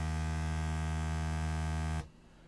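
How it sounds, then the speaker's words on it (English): A Serge synthesizer oscillator puts out a raw sawtooth wave, a loud, steady, buzzy drone rich in harmonics that cuts off abruptly near the end, leaving only faint noise. "So here is a sawtooth output from this oscillator."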